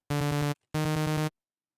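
Two loud bursts of a rapid pulsing arpeggio come from the Surge software synthesizer on its blue ARP preset, each about half a second long with a buzzy, harmonic-rich tone, split by a short gap and followed by silence.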